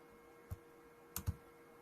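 Computer keyboard typing text, a few soft separate key clicks close by in a quiet room with faint hum.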